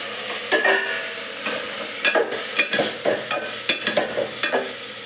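Cauliflower frying in a pan is stirred with a utensil, giving a run of uneven scraping strokes over a steady close sizzle, with no talking.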